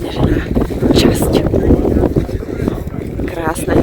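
Strong wind gusts across the snowy summit of Ďumbier mountain in winter, a steady low roar of buffeting against the microphone with a voice talking over it throughout.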